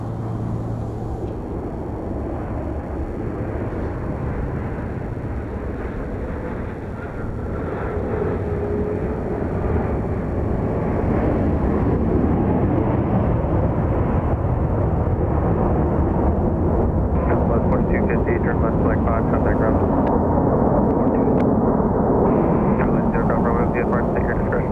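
Boeing 737 Max 8 airliner arriving from Phoenix at Dallas Love Field, a loud continuous jet roar that builds and holds, heard alongside radio talk and a voice speaking throughout.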